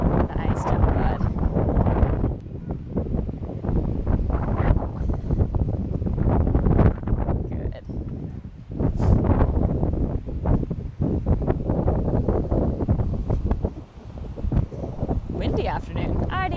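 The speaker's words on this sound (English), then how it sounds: "Windy afternoon." Strong wind buffets the microphone on a beach on a windy afternoon, a loud continuous rumbling roar with gusts rising and falling throughout, with no voices.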